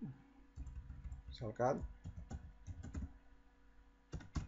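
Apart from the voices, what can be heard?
typing on a computer keyboard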